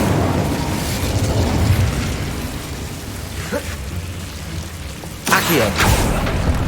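A fire spell cast in the Hogwarts Legacy video game, a crackling, rain-like roar running under a low rumble, then a sharp whooshing burst near the end.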